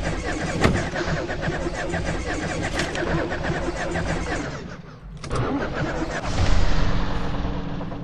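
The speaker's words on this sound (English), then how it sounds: "The truck's on." A truck engine runs in a video game, a steady mid-pitched motor drone with a brief drop and then a louder revving surge near the end, while people talk over it.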